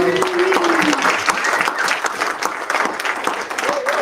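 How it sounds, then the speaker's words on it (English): A church congregation at a Sunday service gives another round of applause, with lively, dense clapping, a few voices calling out over it, and a held tone from a voice or instrument early on. "Let's give her another round of applause"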